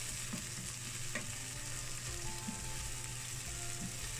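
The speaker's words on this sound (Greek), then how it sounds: "ρίχνεις το κρεμμύδι και σοτάρεις για 4 με 5 λεπτά μέχρι να μαλακώσει" Chopped onion sautés quietly in olive oil in a pot, a soft, steady sizzle with faint stirring scrapes and small clicks throughout.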